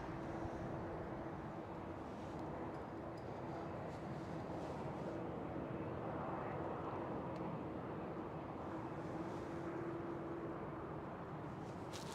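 A KLM Boeing 777 on final approach at Schiphol in clear weather gives a steady, distant jet rumble with a faint high whine, continuous and even throughout without talk.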